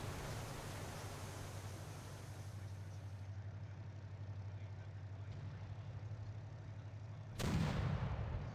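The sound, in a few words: French battleship firing guns in video game Victory at Sea Pacific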